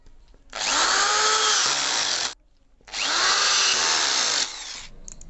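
A power drill drives a screw into HDHMR board while an almirah is being built, with two loud, close, sustained whirring bursts separated by a short pause.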